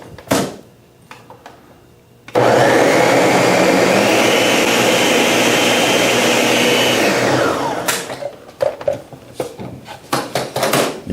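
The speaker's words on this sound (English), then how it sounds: "Your famous Ninja blender." A Ninja blender whirs loudly and steadily for about five seconds while blending berry cream ice, starting abruptly and then winding down, with scattered kitchen clatter before and after.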